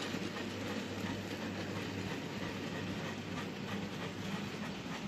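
A model B17 steam locomotive in apple green LNER livery rolls along its track with a continuous whirring drone and faint rhythmic clicking, steady and nearby, with no voices.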